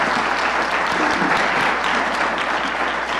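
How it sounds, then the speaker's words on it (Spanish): Steady, dense applause from a conference audience thanking a panel of speakers at a pro bono law event in Mexico, filling the room evenly and continuously with no break. "podemos dar unos aplausos a los panelistas"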